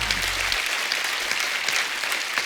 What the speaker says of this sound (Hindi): इस बात के लिए तालियां पहले तो